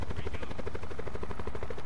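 A video game helicopter's rotor thumps in a fast, steady pulse with a constant engine whine, loud and close throughout with no pause.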